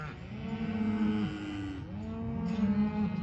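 Several cattle being moved on a farm, cows and bulls together, give long overlapping moos, one call fading and another swelling back in, loud and near with no speech.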